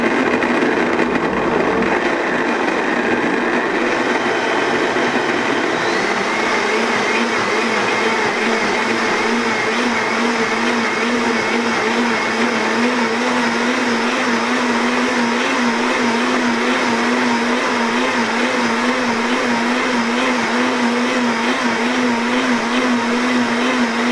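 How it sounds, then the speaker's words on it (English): A blender whirs steadily at close range, blending star fruit into carambola juice, a loud continuous motor drone with a low hum that holds without pause from start to finish, no voices. "And then we just blend this."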